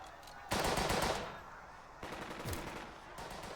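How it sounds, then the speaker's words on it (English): Machine gun fire rattles in the Burden of Command video game, with dense, sustained bursts of rapid shots that swell loud, fade, then return in a second burst. "Oh, we're gonna get shot by machine guns?"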